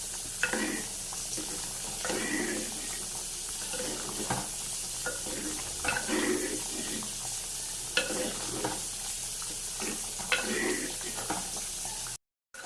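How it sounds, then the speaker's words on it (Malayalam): Pumpkin curry (erissery) fries in a pan while a spoon stirs it in repeated scraping strokes over a constant soft sizzle, close and moderately quiet, cutting off briefly near the end. "ചട്ടയിൽ കൊണ്ടൊന്ന് ഇളക്കി കൊടുക്കാം"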